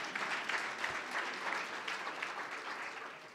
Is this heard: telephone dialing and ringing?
no